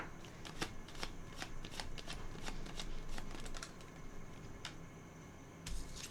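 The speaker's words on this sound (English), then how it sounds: "Unless maybe I have to shuffle again." A deck of tarot cards is shuffled close by, with repeated crisp riffling snaps and soft slides in an uneven rhythm, fairly quiet.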